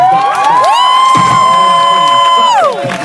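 A loud crowd at a freestyle rap performance cheers and whoops, with piercing whistle-like tones held over the roar for a couple of seconds.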